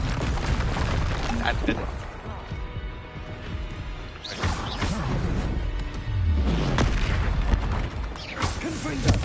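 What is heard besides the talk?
spell explosions in video game Hogwarts Legacy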